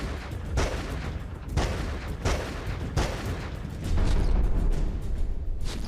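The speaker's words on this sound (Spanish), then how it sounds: "Los disparos fueron 5 en total." Five gunshots fired from a parked vehicle ring out at irregular intervals, loud and reverberant, with a rumbling low background between them.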